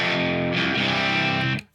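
Electric guitar through the ambience room reverb on a Line 6 POD Express, a sustained, loud distorted chord ringing with roomy tail that is cut off abruptly at the end.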